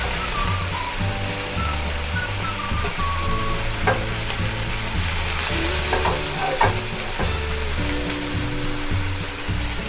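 Chicken slices fry in a pan over a medium flame, giving a dense, continuous sizzle and spatter close by with occasional stirring scrapes.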